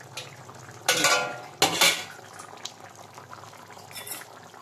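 Curry with ginger and garlic is stirred in a pot, two loud metallic scrapes of a spoon against the pot followed by softer clinks and a faint simmer, close by, no talking.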